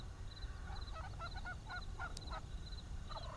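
Fowl, likely turkeys or geese, call in quiet, foggy countryside: several short honking calls in a loose series, fairly distant and faint, over a low steady hiss of still air with crickets.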